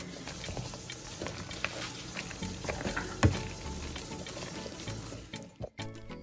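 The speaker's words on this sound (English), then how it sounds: "So we're just gonna pour some whipping cream." Whipping cream poured into a pot of potatoes and butter for mashing, a steady wet liquid stream with soft sloshing, close by, ending in a couple of small clatters.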